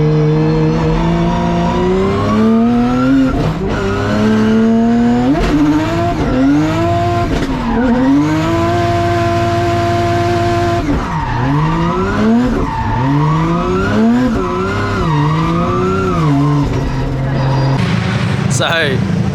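A straight-pipe drift car at Nikko Circuit revs hard and close, its raw exhaust note rising and falling through repeated throttle stabs and sustained high-rev pulls, loud throughout.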